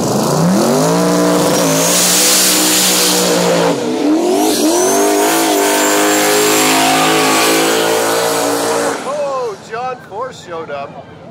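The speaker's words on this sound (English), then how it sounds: "LS powered turbo Fox body. He's gonna go up against Wadji and that twin turbo small block Ford" Turbocharged drag cars, an LS-powered turbo Fox body and a twin-turbo small-block Ford, launch side by side at a no-prep drag race at St Thomas Dragway. Engines roar loudly with rising revs, then drop away into quieter rumbling, with talk alongside.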